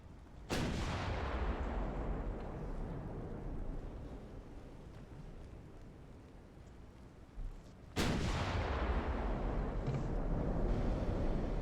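Heavy 18-inch super-heavy battleship guns firing lyddite high-explosive shells in the naval game Ultimate Admiral: Dreadnoughts: two loud, booming blasts about seven seconds apart, each followed by a long rumbling decay.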